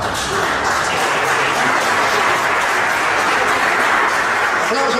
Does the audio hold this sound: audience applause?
yes